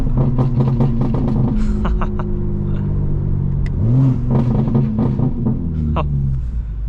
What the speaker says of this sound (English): those burbles sound incredible